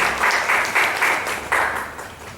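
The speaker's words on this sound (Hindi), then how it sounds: "आए तालियों के साथ स्वागत है" An audience at an Arya Samaj stage claps warmly to welcome a poet before his recitation, a full, close burst of steady applause that surges in waves without speech.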